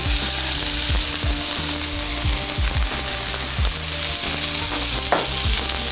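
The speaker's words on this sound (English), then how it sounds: "Got some shallots. I'm going to add those to the pan." Shallots sizzle loudly in butter in a hot pan, a constant bright crackle with repeated low scraping knocks as they are stirred.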